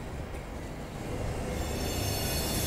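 A long Class 465 electric train pulls out of a station in the Train Simulator 2020 game, a steady low rolling rumble with a faint whine that builds slightly over a few seconds.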